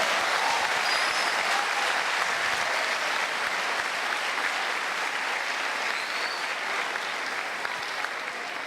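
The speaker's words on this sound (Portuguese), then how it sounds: "dê uma forte salva de palmas, amém?" Strong, sustained applause from a church congregation fills the space, a dense even roar of many clapping hands that continues without a break.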